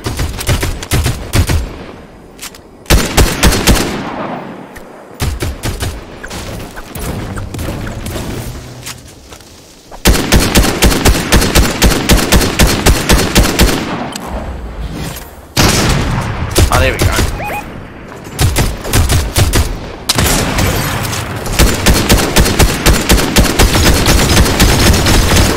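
Dense bursts of automatic gunfire in a shooter video game while a shark is being shot at, rapid rattling volleys repeating loud and close across the whole stretch, broken only by short pauses, with voices talking over it.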